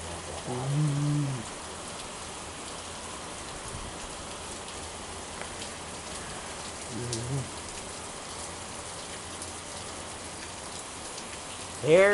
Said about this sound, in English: Here's this rainstorm.